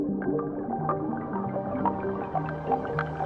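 Resonant filter pings sampled into the Pigments synth and played back as a quick sequence of short, bell-like plucked notes at shifting pitches, each with a brief ringing tail, steady and moderately quiet with no voice.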